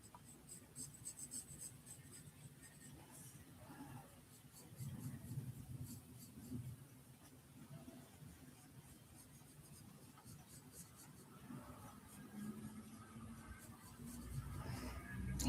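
A sharp pencil scratches softly across paper while sketching a Renault 12 Break, with steady faint strokes and light rubbing continuing throughout in a quiet room.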